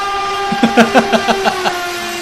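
A train in the Free Fire video game sounding a horn as it passes, a chain of short, evenly spaced tonal blasts over a steady background drone, loud and clear.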